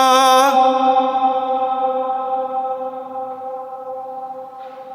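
Long reverberant ring inside Thurgoland railway tunnel, a sustained harmonic tone slowly decaying over several seconds with no talk, echoing and spacious.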